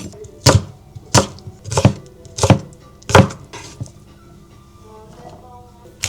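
A knife chopping asparagus on a board, five sharp, evenly spaced thuds about every 0.65 seconds, then a pause and one more cut at the end, close and clear.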